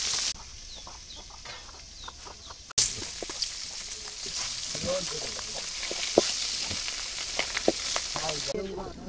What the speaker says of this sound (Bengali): এবার সিঁড়ি দিয়ে এই দিয়ে মুরগি ওঠে